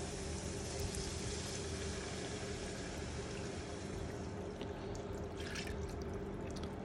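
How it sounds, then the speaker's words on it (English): Chicken broth and half and half poured into a pan, a steady continuous liquid stream with faint splashing and dripping, close and even in level, with no talk. "I'm going to add in 1/3 cup of chicken broth"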